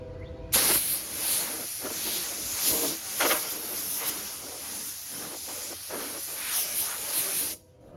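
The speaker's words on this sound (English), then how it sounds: "Blow it off with our air hose" Compressed air hose blasting debris off a Kia car door: a loud, steady high-pitched hiss with repeated bursts and surges, cutting off sharply near the end.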